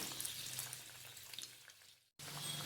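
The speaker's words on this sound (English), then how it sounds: "we need to put it in the oil for frying" Steady hissing sizzle of vadas deep-frying in hot oil, with a faint low hum underneath and a brief dropout near the end.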